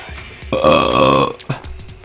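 A long, loud, drawn-out burp rumbles through the middle of the clip in a let's play of the visual novel Danganronpa V3, with quieter throaty sounds and a short vocal blip around it.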